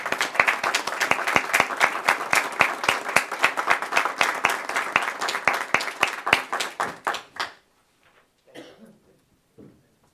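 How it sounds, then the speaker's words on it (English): Close, crisp clapping from the audience at a Moore County school board meeting, individual hand claps distinct and rapid for about seven seconds before stopping abruptly, followed by quiet room noise and a cough or two. "I'd just like to ask the audience to join me now in just giving applause for you all for the work you do"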